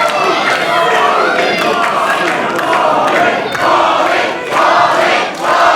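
A wrestling arena crowd at a Bobby Marshall versus Marcius Pitt match roars and cheers loudly and continuously, with swelling shouts rising and falling throughout.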